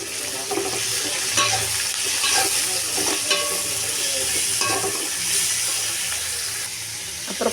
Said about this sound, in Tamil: ஒரு 5 நிமிஷம் வதங்கட்டும். நல்லா வதங்குது.